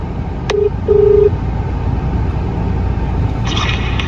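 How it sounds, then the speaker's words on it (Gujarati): Two short electronic dialing beeps, one brief and one longer, sound over a steady low engine rumble, with a faint clatter near the end. "હવે આપણે વર્જનભાઈ ને ફોન કરી દઈએ"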